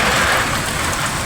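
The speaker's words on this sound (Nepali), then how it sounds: "यस्तो रड्डी हावा चलिरहेछ कि पानी पनि यस्तो ठुलो आउँदैछ" Heavy rain and strong wind in Taplejung during a storm, a loud dense broadband roar of pouring rain and gusting air, close and continuous with no one speaking.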